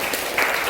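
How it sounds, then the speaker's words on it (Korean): A church congregation applauds, a short burst of many hands clapping together that swells slightly toward the end. "박수 한번 하겠습니다"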